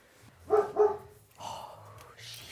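A dog barks twice in quick succession nearby indoors, followed by a softer whine or yip, with no talk over it.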